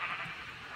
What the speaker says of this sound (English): Now you have this crazy weird thing of teleporting rainbow sheep.